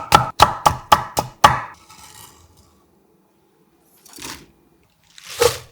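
A knife cuts carrot into thin julienne strips on a cutting board, giving five quick crisp chops close up, then a soft scrape and a couple of later rustles as the pieces are moved.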